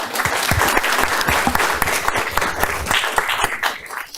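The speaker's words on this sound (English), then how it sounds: "I will ask that you give them a round of applause." An audience at a school district board meeting gives a sustained round of applause, dense steady clapping from many hands filling the room for several seconds.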